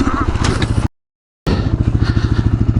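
Suzuki DRZ400S street-legal dual-sport motorcycle engine thumping nearby with a steady, rapid single-cylinder pulse, cut by a short silent gap, with a person talking over it.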